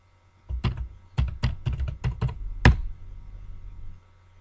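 Bursts of computer keyboard typing as a login is entered, a quick run of sharp clicks for about three seconds with one harder final keystroke, close and clear in a quiet room.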